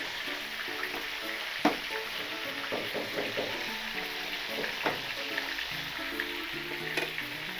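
Black pomfret fish fries in a pan at home. A steady, soft sizzle of hot oil carries on throughout, with occasional clinks and stirring sounds close by and no talking.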